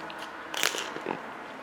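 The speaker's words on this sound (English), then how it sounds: "they have a nice crunch on them" Biting into a crunchy beef, onion and cheese wrap at close range, a couple of sharp crackling crunches followed by softer chewing, with no talking.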